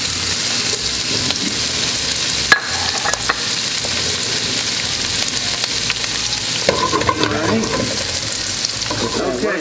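Andouille sausage sears in olive oil heated near its smoke point, giving a loud, continuous crackling sizzle with occasional stirring scrapes close by.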